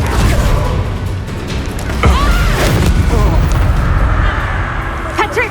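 Loud, dense blasts and crashes from the Bombarda spell in Hogwarts Legacy, a heavy rumbling explosion that fills the clip with brief whooshing accents and a short shout near the end.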